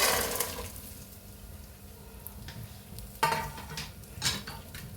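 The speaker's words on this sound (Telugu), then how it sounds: "వేసి మంచి వాసన వచ్చేంత వరకు వేపాలండి" Nuts being dry-roasted in a pan for protein laddu, with soft scraping and stirring of a spatula against the pan and occasional sharper metallic clinks, close by and fairly quiet.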